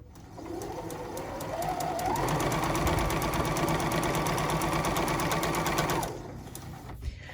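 A sewing machine runs a continuous seam on a hexagon log cabin quilt block, motor whirring up to a steady fast stitch for about four seconds before stopping, close and clear with no talking.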